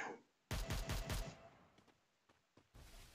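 Gunfire in a Free Fire tournament match, a loud rapid burst of about five close shots, then a few fainter scattered single shots after a short pause.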